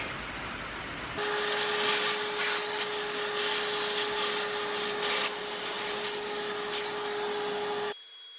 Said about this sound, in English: I'll get the vacuum cleaner over here with the little hose and suck all that out